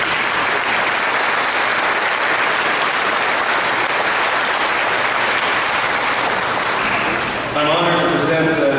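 Sustained, loud applause fills a high school commencement in Centerville, Iowa, a dense crowd clapping steadily for several seconds before a voice begins speaking near the end.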